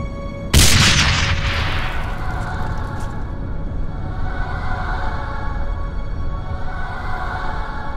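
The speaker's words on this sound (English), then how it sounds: "Watch out, grenade!" A grenade goes off in the Wolfschanze 2 video game: one sudden loud blast early on, followed by a long rumbling decay and lingering ringing tail, with no voices.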